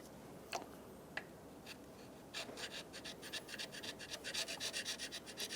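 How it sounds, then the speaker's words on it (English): A razor blade or carbide scraper rasps across the intake manifold mating surface of a 2000-2007 Ford Focus engine, first with two isolated scrapes and then a steady run of rapid, close strokes. "Using a razor blade or a carbide scraper, we're going to go through and clean the mating surface for the intake manifold"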